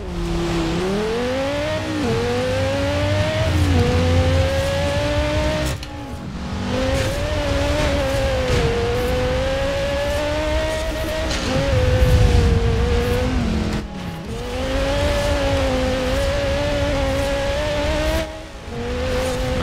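Racing car engine in Forza Horizon 4, an all-wheel-drive car of just under 300 kW driven in a race, revving loud and steady, its pitch climbing through repeated gear shifts, with brief dips between gears and no talk.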